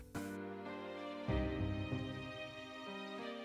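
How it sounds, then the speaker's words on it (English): Sustained string melody layered over piano and a low bass line in a JRPG main theme, dense and continuous with a swell partway through, no voices. "I brought in a string melody on top of that"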